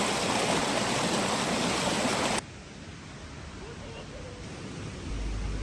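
A stream in the woods near Manali rushes loudly and steadily, then the sound abruptly drops to a much quieter, hushed ambience.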